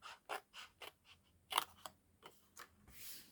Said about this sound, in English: I'm going to cut this section off here in between